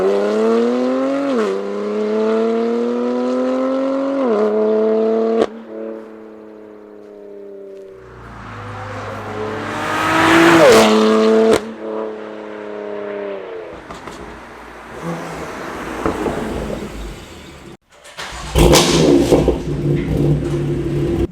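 A BMW S55 engine in an M4 GTS with an Active Autowerke equal-length exhaust revs loudly several times, the pitch climbing and falling in sweeps, with sharp pops and a rougher roar near the end and no talking.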